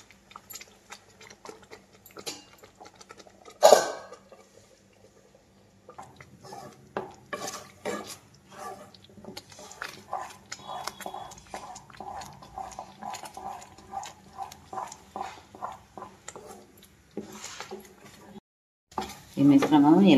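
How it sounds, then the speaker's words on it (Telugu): Jaggery melting in a pan while being stirred: repeated scraping and clinking of a spoon against metal in uneven bursts, with a louder clank early on, over a low sizzle. "మధ్య మధ్యలో ఇలా తిప్పుకుంటూ ఉండాలండి"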